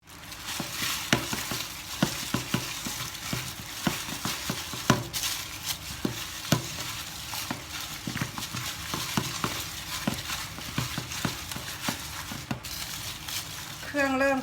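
Pork being hand-mixed with seasonings and coarsely pounded coriander seeds, giving steady wet squishing and patting with occasional clinks of a bowl, close by and moderately loud, with someone talking quietly at times.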